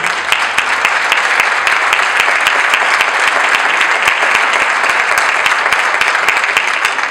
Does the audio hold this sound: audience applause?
yes